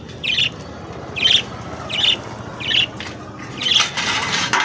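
Budgerigars in a cage give five short, bright chirps at roughly even intervals, each separated by a brief pause, over a quiet background with no talking.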